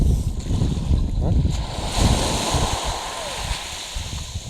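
Ocean surf washes steadily onto the shore at Sandwich on Cape Cod, a continuous broad rushing roar with gusty wind buffeting the microphone throughout.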